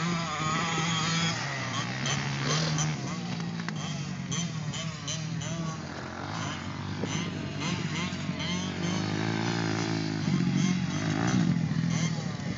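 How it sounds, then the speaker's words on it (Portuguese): A motocross motorcycle engine drones and revs at a dirt-track race, a steady buzzing roar with people talking in the background throughout. "Será que essa moto tá morrendo?"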